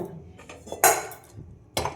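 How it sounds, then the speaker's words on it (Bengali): A metal wok set down on a kitchen stove, giving two sharp clanks about a second apart with a brief scrape before them, close and fairly loud, no talk. "এবার আমি একটা"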